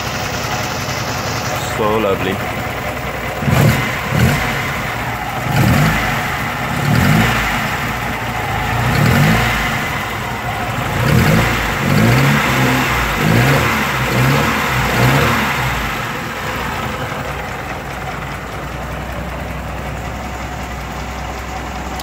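An Alfa Romeo Alfetta engine idles while warming up, then repeatedly revs in rising bursts before settling back to a steady idle, heard close with a person speaking briefly over it.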